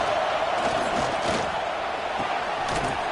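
A football stadium crowd at a Boise versus USC game roars in a dense, sustained wall of cheering, loud and continuous.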